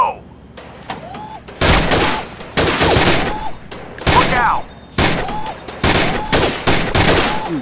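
AK47 and Desert Eagle gunfire in the VR shooting game Gun Club, loud bursts of rapid shots in several bunches with short gaps, overlapping with excited talk.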